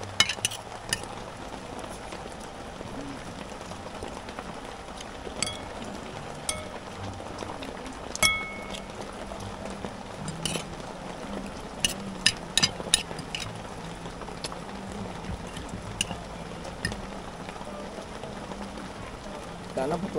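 Rain patters on a motor scooter and its rider during a Sunday ride, a steady close hiss broken by scattered sharp drop ticks, while someone talks over it at times.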